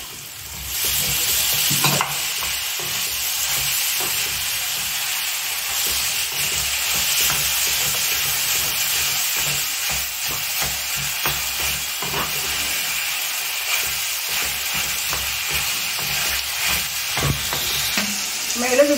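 Tomatoes fry in a pan with crushed ginger and garlic for potato masala. A constant close sizzle hisses, broken by the scrape and clatter of a spoon stirring, with no speech.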